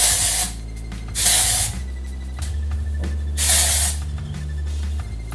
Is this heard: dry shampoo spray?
yes